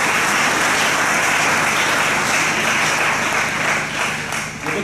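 A church congregation claps loudly and steadily throughout, a dense wash of applause that fills the hall without a break and eases slightly near the end.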